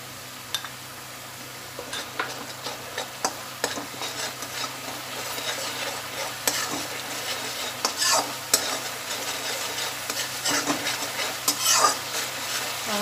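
Spice masala cooking in oil for a Mughlai potato curry, with a constant sizzle under repeated scraping and tapping strokes of a spoon against the pan. The strokes grow busier and louder over time, and no one speaks.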